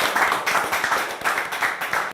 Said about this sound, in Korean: 아주 잘하셨습니다. 박수.